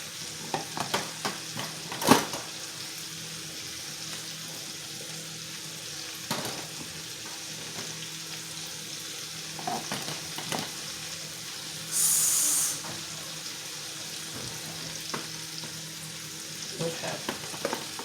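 Squash fries steadily on a stovetop with a soft continuous sizzle, punctuated by occasional sharp clicks and scrapes of stirring and a brief louder hiss partway through.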